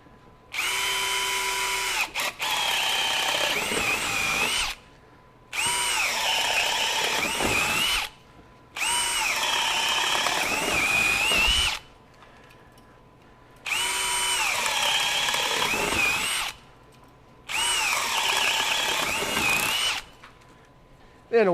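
A Bosch GSB18V-1330C 18V high-torque hammer drill driver bores with a 1-inch bit. It runs in five loud, close bursts of several seconds each, with brief pauses between them, and its motor pitch sags under load.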